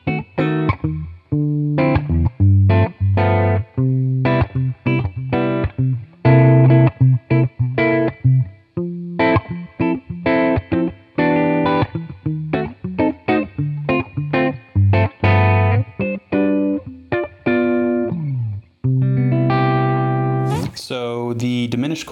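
Clean electric guitar with distortion and delay switched off, moving a diminished chord shape around the neck in a jazzy progression of short, bright strummed and picked chords with brief pauses.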